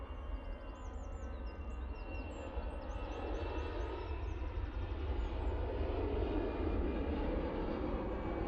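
A jet airliner at Manchester Airport roars through its takeoff run as a steady, distant broadband rumble, with faint birdsong chirping above it and no talk.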